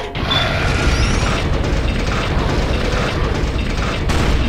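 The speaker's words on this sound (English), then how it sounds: "We're about to open the gate" Gate-opening mechanism in the video game Dredd Vs. Death, a loud, steady mechanical grinding and rumbling with heavy low-end thuds and clanks running continuously, without speech.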